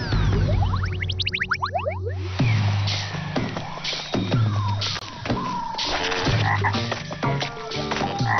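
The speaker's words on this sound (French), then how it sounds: "Voici une grenouille à flèches." Poison dart frog croaks repeat steadily, each a short raspy call, with a rapid rising trill of clicks near the start; close and fairly loud over a low hum.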